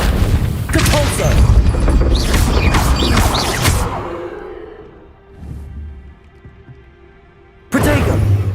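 A Depulso spell cast in Hogwarts Legacy, heard as a burst of loud booming, blast-like game effects over a dense mix, then a quieter stretch with a low hum before another loud burst at the end.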